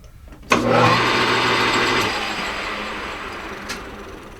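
A lathe bores out a washer spacer for a Harbor Freight aluminum racing jack roller, a steady machining whir and cutting hiss starting abruptly, holding loud, then easing slightly with a brief click near the end.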